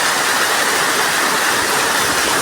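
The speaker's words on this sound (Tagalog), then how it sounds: "Malalim na talon." A deep waterfall in a forest roars in a loud, constant, broadband rush that stays dense and unbroken throughout.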